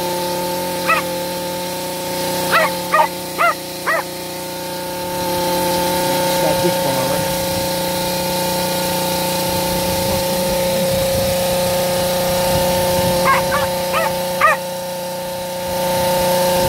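Terriers out ratting in the countryside, giving short sharp yips and barks in small bursts at the start and again near the end, over a steady engine drone and low outdoor noise.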